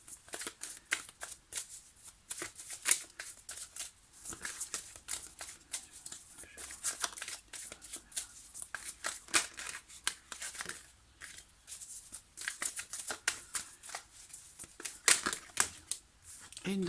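Tarot cards shuffled by hand in short, papery riffling bursts that repeat irregularly and close to the microphone, with faint breaths and small pauses between bursts and no voice over them.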